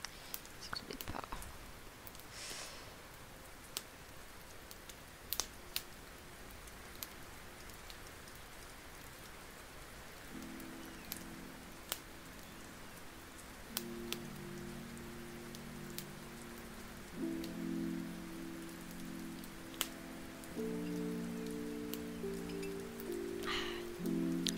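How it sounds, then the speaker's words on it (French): Steady rain patter with scattered crackling pops forms a continuous soft ambience, with a faint tonal background in the latter half. "C'est parfait, ce son de pluie et de crépitement, merci."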